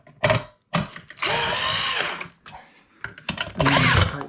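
A power drill drives screws on a ceiling fan motor being installed, giving short whirring bursts and one longer sustained whine, up close and loud, with brief clicks and handling noises between.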